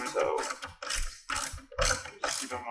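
A ratchet socket wrench tightening a bolt on an Undercover Ultra-flex tonneau cover for a Jeep Gladiator JT, four loud close bursts of rapid clicking separated by short pauses as the handle is swung back and forth.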